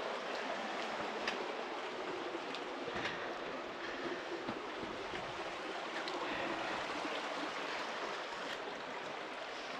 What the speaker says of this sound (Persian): یه آب گرمی داره از اینجا میاد